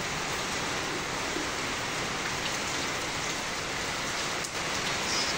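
Steady typhoon rain pours down in a dense, even hiss on surfaces nearby, continuous and fairly loud, with no voices.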